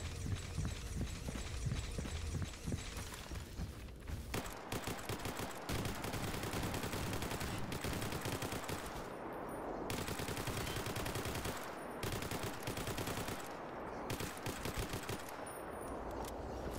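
Rapid automatic gunfire from the S.T.A.L.K.E.R. GAMMA shooter game fills the whole stretch, loud and continuous with brief lulls between dense bursts of shots.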